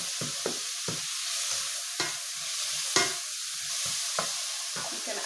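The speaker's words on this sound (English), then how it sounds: "Add the egg. Break it down to pieces." Egg frying in a hot pan while a utensil stirs and breaks it into pieces, a steady close sizzle broken by repeated sharp scraping taps at an irregular rhythm.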